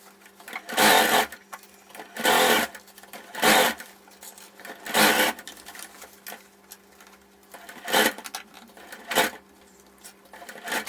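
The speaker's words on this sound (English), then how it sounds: "I'm going to sew this using a 3/8 inch seam allowance going all the way around" A sewing machine stitches a blazer sleeve into the armhole with a 3/8 inch seam allowance, running in six loud bursts of about a second each, separated by short quiet pauses, with no voices.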